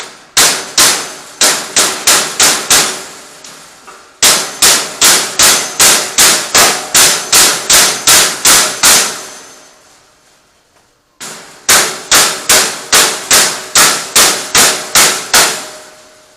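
Heavy hammer blows pound a bent metal trailer frame straight, loud, close, sharp metallic strikes in three rapid bursts of about a dozen each, separated by short pauses, with no talking.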